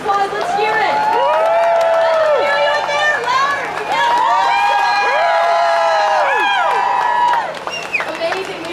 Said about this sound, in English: Give the truckers a round of applause. Let's hear it.